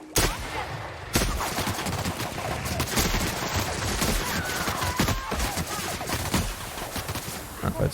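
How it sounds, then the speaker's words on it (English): Sustained gunfire while shooting enemies in The Outer Worlds, loud and continuous with rapid overlapping shots and impacts packed throughout, barely any pause in the barrage. "There's a couple of little dudes over here I may want to shoot."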